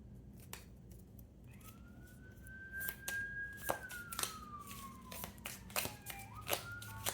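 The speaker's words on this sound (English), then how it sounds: "I live in this city, so it's like sirens all the time" A distant police siren in a city rises and falls faintly in the background while close, sharp handling clicks and rustles occur in the foreground.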